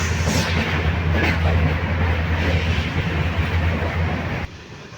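A steady, loud rumble of a moving train passing tea gardens in the Dooars, West Bengal, broadband clatter and low drone throughout, cutting off abruptly near the end.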